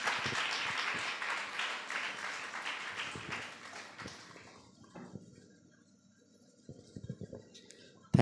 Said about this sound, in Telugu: దైవజనులను చప్పట్లు కొడుతూ మనం ఆహ్వానిద్దాం